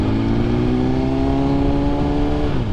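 A 1000cc motorcycle engine revs hard in neutral, its steady loud drone climbing and holding a high pitch before dropping off near the end, with no voices.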